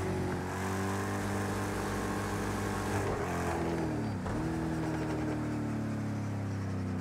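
A race car engine drones in Project Cars 2, a loud, steady harmonic whine that dips sharply twice as the revs drop on shifts or braking, then climbs again.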